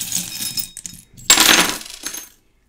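Small metal charms rattled and dropped onto a surface for a card reading: a brief jingle, then a louder clattering spill and a final small clink, close by with no talk.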